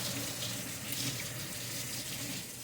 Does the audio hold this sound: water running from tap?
yes